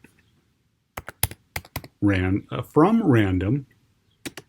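Keys clatter on a computer keyboard in short bursts of crisp clicks near the start and again at the end, with a single spoken word in between.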